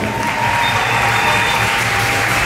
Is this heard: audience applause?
yes